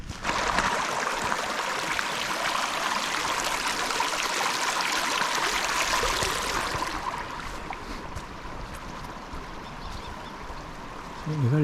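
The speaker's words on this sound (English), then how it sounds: "a few of these little side streams probably a bit bigger than they were yesterday" A small side stream swollen by overnight rain rushes and trickles steadily nearby in the Yorkshire Dales, a continuous bright gurgling flow that softens slightly toward the end.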